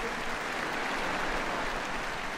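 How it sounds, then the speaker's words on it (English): Applause from a crowd at a gundog display at Crufts, a steady dense clapping that fills the whole moment at moderate distance with no voices on top. "Give him a big round of applause."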